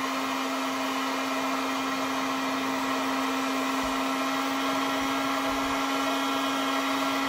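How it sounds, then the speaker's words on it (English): A heat gun blows with a steady, loud whirring hum and fixed motor whine while softening a Kydex sheet for a knife sheath, running continuously with no pauses. "Turn the heat gun off."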